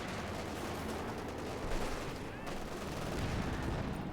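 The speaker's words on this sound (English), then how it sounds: "Shot fired." Gunfire in Company of Heroes 2, a Wehrmacht versus Soviet match, crackles at a distance amid dense battlefield noise, with a sharper report around the middle and a steady rumble throughout.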